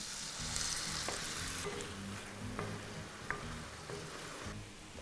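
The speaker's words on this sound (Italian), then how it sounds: "E ora vado a declassare il fondo, lo vedete questa cosa qui, con un pochino della birra scura." A pan of meat being deglazed with a splash of dark beer, along with bay leaves, gives a steady, close hiss and sizzle with a few scraping stirs and small pops, no voices.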